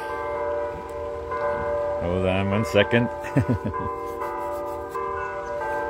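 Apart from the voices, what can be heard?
church bells ringing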